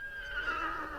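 A horse gives a short, faint whinny, one brief wavering neigh that slides downward in pitch over a soft background.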